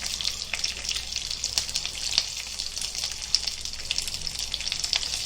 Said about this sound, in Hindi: अभी देखो जीरा डाल रहे हैं, करी पत्ता डालेंगे, तर तर अच्छे से तड़कने देंगे